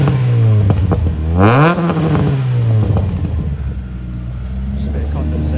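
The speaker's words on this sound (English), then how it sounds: "So we'll give it a rev." A Vauxhall Astra mk2 GTE with a 16-valve engine idles and then revs once sharply, the pitch climbing and falling back to a steady idle in freezing, hailing weather, loud and close.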